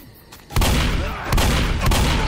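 Gunfire in the zombie shooter Left 4 Dead, at a boathouse finale: a sudden loud burst followed by further heavy shots and rumbling, close and dense, with no talk.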